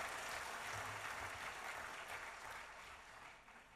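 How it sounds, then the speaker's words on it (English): Audience applause at the launch of the Make in India initiative, a broad steady wash of clapping from a large crowd, faint and distant, tapering off toward the end. "let's applaud the event and this special launch of Make in India"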